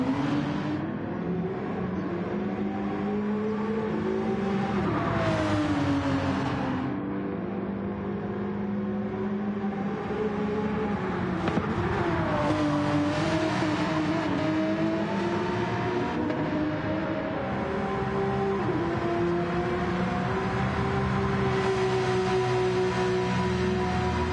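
Race cars drift at speed, a continuous roar of revving engines with shifting, sliding pitch, loud and steady throughout.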